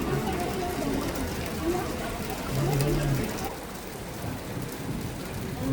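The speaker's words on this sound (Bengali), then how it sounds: "বাজার করতে এসে বৃষ্টিতে ভিজতেছি।" Rain pours steadily at an outdoor market, a constant hiss of drops on surfaces with faint rumbling, under background voices and crowd noise.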